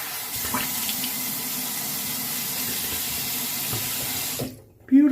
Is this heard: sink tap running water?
yes